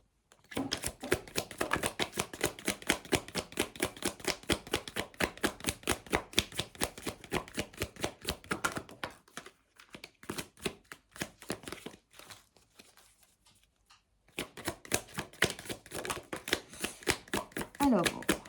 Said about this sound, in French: je vais utiliser le grand jeu des flammes jumelles de Catherine Frances pour réaliser le tirage sur la relation.